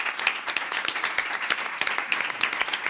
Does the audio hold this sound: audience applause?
yes